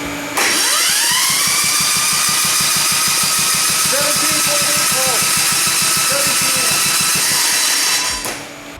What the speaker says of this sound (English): jump starting a piece of equipment with at least with a stick welder